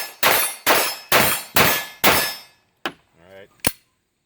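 Five sharp, loud pistol shots from a Glock 19X ring out at a steady, quick rhythm, each with a short ringing tail, followed by a brief voice and one more sharp clank.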